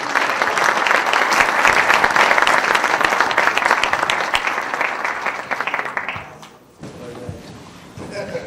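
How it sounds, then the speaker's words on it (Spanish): Audience applause at a book launch, following a musical performance of O Sole Mio and a tango, dense and steady for about six seconds before tapering, with faint voices as it fades. "Un aplauso para ellos"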